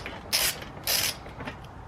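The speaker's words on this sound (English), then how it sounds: "every bolt that I see, I will always loosen first" A wrench creaks and ratchets as bolts are loosened on a custom bike rack, two strong scraping bursts followed by a fainter third, close and without speech.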